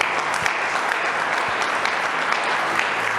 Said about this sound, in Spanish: Cuando le damos un aplauso al Eterno